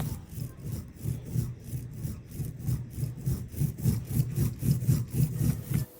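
An ink roller drags backwards through printing ink on a slab, giving a rhythmic, sticky rasping with about two strokes per second, close and steady, alone without talk.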